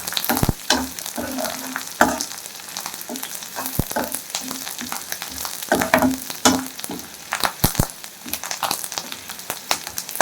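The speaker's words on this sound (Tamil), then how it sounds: "இந்த வத்தலெல்லாம் இந்த சலசலப்பு கொடுத்துடணும்" Dry chillies crackle and spit in hot oil, a busy sizzle dotted with sharp pops and faint stirring, close up.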